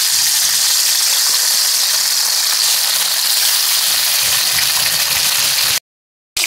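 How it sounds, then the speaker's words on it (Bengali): Fish fries in hot oil with a loud, steady sizzle and crackle, close and uninterrupted for several seconds before stopping abruptly. "এবারে বাকি মাছগুলো ভেজে নেব।"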